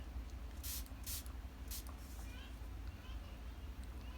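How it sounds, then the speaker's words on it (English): Three brief, close hissing bursts of Fix Plus setting spray sound in quick succession over a low, steady background hum. "we're also gonna spray some Fix Plus"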